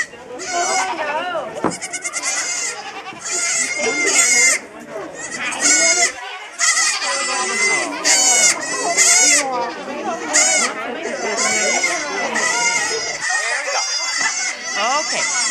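Goat bleating repeatedly in quick, wavering cries, close and loud, mixed with other farm animal calls and someone talking throughout.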